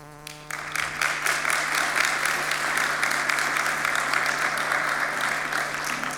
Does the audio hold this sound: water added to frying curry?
no